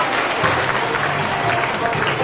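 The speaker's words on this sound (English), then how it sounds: "Give yourselves a round of applause." Steady audience applause from a group, dense and continuous clapping at even loudness throughout, with faint crowd murmur underneath.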